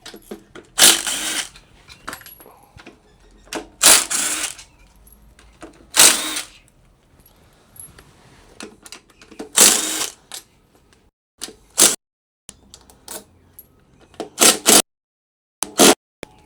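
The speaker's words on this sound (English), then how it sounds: "Go around it, undoing all the bolts." Bursts of a power tool loosen the bolts around a case on a Gilera Runner 180 scooter, with about ten short whirring runs of one to two seconds each, close and loud, separated by quiet pauses.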